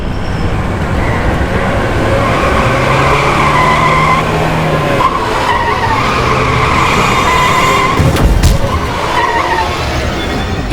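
Tires squeal and skid loudly as a car races off, a sustained screeching and engine roar that holds strong and steady throughout.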